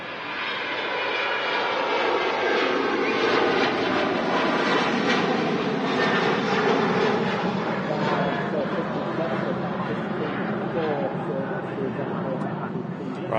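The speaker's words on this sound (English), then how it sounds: "Ryanair 737-800 departing there" Loud, continuous jet roar from a Ryanair Boeing 737-800 departing Manchester Airport, building early and holding strong throughout, with a voice talking over it.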